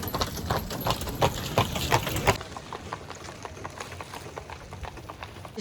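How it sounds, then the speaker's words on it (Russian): Another horse pulling a cart on the trail to Morskie Oko, Poland, with brisk hoofbeats loud and close at first, then continuing more faintly as it moves off. "Еще одна лошадка с повозкой."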